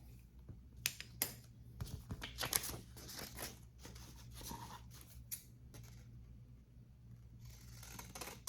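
Scissors snip paper for a junk journal in short, irregular bursts of close, quiet cuts with rustling between them, and no talking.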